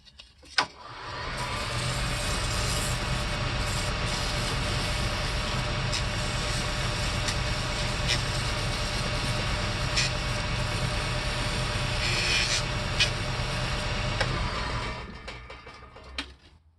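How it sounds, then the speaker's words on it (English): Steady, continuous sanding of an olive wood ring with 220-grit sandpaper, likely on a spinning tool, giving an even, loud whirring hiss for most of the time with a few sharp ticks, starting and stopping abruptly. "I'm going to hit it real quick with some 220 sandpaper"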